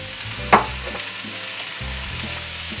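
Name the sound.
vegetable medley stirred and frying in a pan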